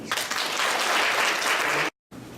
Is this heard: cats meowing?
no